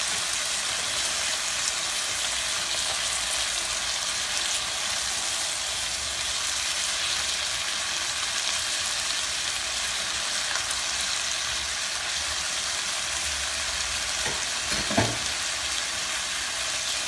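Chopped ham fries in a skillet for a frittata, a loud, even, dense sizzle holding steady throughout with a couple of small knocks near the end and no talking.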